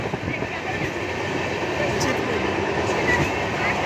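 A train rolls through past a railway station in Odisha, heard as a steady, loud rumble of wheels and carriages with faint clatter throughout, continuous from start to finish.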